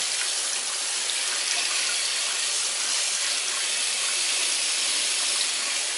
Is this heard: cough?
no